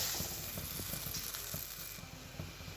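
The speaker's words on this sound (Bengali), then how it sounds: "এবার মাছগুলো এতে দিয়ে দেবো।" Hilsa fish pieces go into hot oil spiced with turmeric and salt, giving a loud steady sizzle with crackling spits and pops close up.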